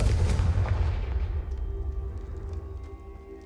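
A loud fire-spell blast in a Harry Potter video game, a sharp boom with a burst of crackle that decays into a long rumbling tail, with no voices.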